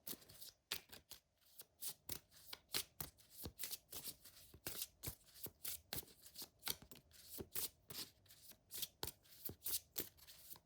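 Tarot cards are shuffled by hand in a quiet room, a soft, close run of quick riffling flicks and slaps repeating in uneven bursts, faint overall and with no talk.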